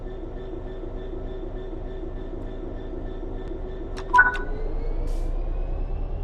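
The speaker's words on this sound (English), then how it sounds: "Apply some throttle to get the train moving" A train in the game Train Sim World 3 gives a steady low rumble, with a brief metallic clank partway through as the engine note rises and it starts to move.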